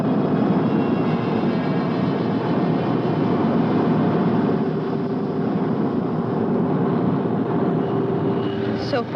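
Steady roaring engine rumble of a cartoon spacecraft making a vertical landing, loud and continuous throughout, with a faint rising whistle at the very end.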